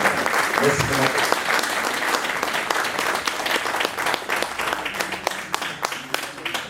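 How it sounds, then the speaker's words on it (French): Sustained audience applause fills an evening gathering of an association fighting sickle cell disease, a dense, steady patter of many hands with faint voices mixed in, fading slightly toward the end. "Et nous allons à nouveau encore t'applaudir"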